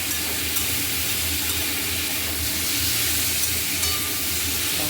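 Food frying in a pan on a gas stove, a dense continuous sizzle and hiss throughout, close and fairly loud, with no talking.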